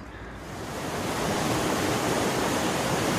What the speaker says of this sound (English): it's so relaxing just to stand by a river and listen to it flow